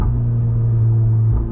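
A car fitted with an IE TCU transmission tune, set up for DSG-style gearchanges, gives a loud, close, steady low engine drone with a short dip near the end that suggests a quick upshift.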